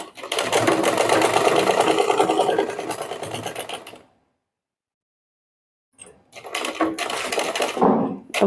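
A sewing machine stitches piping onto the back neck of a blouse, a fast, steady mechanical chatter that stops for a two-second silence, then resumes in shorter bursts, close and loud.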